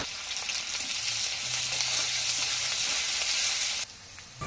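Chopped onion and sliced green chillies hit hot oil with bay leaves and whole cumin, setting off a loud, continuous sizzle that holds steady and then drops sharply near the end.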